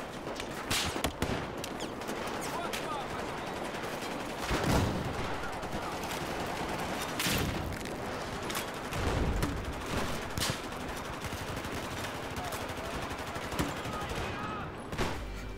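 Battlefield 4 video game gunfire crackles in rapid bursts and scattered single shots, with a few heavier blasts standing out, fairly loud throughout with occasional talk mixed in.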